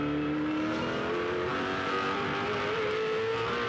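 V8 Supercars race cars howling around the Barbagallo circuit in a 2007 championship race, engines revving high with rising and falling pitch as cars pass, a continuous loud roar with no talk.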